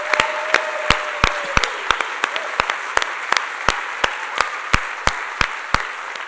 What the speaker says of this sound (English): How about a round of applause for everybody